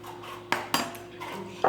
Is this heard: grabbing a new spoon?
yes